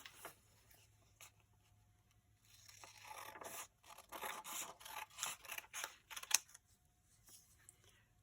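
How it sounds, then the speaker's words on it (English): Small scissors snip through paper while cutting little snowflakes, a series of faint, close crisp scrapes and snips clustered mid-clip against a quiet room. "I'm going to cut some snowflakes, some small snowflakes."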